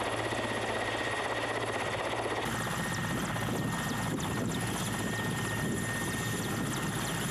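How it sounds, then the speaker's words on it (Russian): A Russian Emergencies Ministry Mi-8 rescue helicopter flies close by in a Kamchatka rescue exercise, its rotor and engine roar loud, steady and continuous throughout. "задействовали вертолет Ми-8 МЧС России, на котором находились спасатели и сотрудники пограничного управления."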